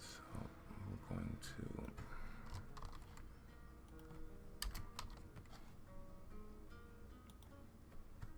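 Computer keyboard typing while writing code for a Zelda-style inventory in GameMaker Studio, a steady run of quiet clicky keystrokes across the whole stretch with a voice talking over them at times.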